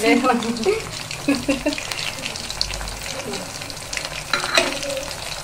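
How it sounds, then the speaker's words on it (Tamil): Chicken 65 sizzles as it fries in a pan, with a spoon stirring and scraping at it in bursts and a steady crackle running under everything. "மிதமான சூட்டில் கலராக வேகிறது."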